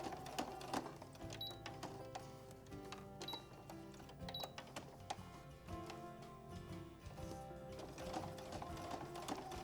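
A project bag pocket is stitched on a sewing machine, giving a faint, continuous run of quick ticking needle strokes with small clicks, steady throughout and with no voices.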